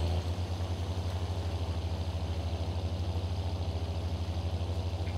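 Tractor engine in Farming Simulator 22 running at a steady idle, a loud continuous low throbbing drone with an even pulse throughout, no talk over it.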